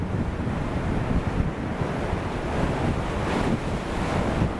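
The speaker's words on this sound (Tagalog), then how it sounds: "Kaso parang maglalaki ng alon." Steady roar of ocean surf with waves washing in, mixed with gusty wind buffeting the microphone; continuous and fairly loud, no talking.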